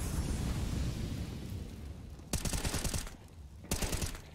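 Bursts of rapid automatic gunfire crackle in a Counter-Strike match on the Nuke map, dense volleys in two sharp clusters over a busy background of game sound.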